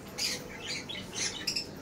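Caged birds give a few faint, shrill squawks and chirps in quick irregular bursts, heard alone against a quiet background.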